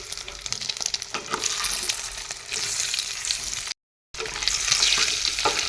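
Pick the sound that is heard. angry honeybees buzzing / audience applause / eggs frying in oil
eggs frying in oil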